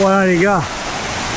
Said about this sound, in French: le Gourdeleu, petite cascade